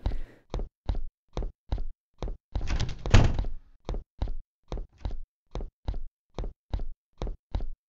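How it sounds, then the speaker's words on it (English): High-heeled footsteps in Fundamental Paper Education, a cat-girl school horror Baldi's Basics fan game: a steady run of about fifteen hard, hollow heel clicks at an even walking pace, briefly masked by a rushing whoosh midway. "I hear a fashionable high-heeled shoe!"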